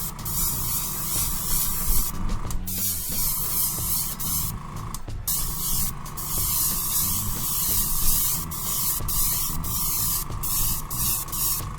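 An aerosol can sprays a heavy black coat onto a prop blaster in a workshop, a steady loud hiss broken by several short pauses over a constant electrical hum, close up with no talking.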